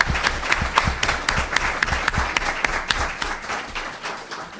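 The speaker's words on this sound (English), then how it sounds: "let's give a round of applause to the terrific panelists tonight" An audience applauds panelists at a law discussion event with a steady, dense clapping that holds strong and then tapers slightly, a few louder individual claps standing out near the front.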